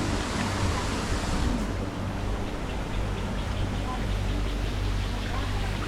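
Small streams of water trickling down at the sticky waterfalls in Chiang Mai, heard as a steady, dense rush of flowing water that stays loud and unbroken throughout.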